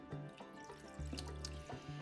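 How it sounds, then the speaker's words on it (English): A cup of water pours into a saucepan that already holds butter, faint splashing with short pitched gurgling tones that rise and fall in a few bursts, close by and with no voices. "we're gonna add our half stick of butter and our cup of water into the same saucepan."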